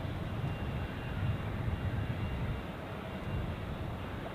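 An airplane takes off from runway 28 at Zurich Airport, a steady, loud broadband engine roar that holds at an even level throughout with no voices.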